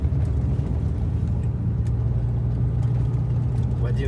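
A vehicle travels on a long-distance road trip from Saint Petersburg to Yakutsk, giving a steady, continuous engine drone and road rumble heard from inside.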